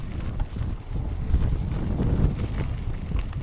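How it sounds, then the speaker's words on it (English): Strong wind buffets the microphone outdoors during a hilly ride on a homemade electric mountain bike, a steady low roar with gusts swelling and fading throughout, no voices. "Windy like today."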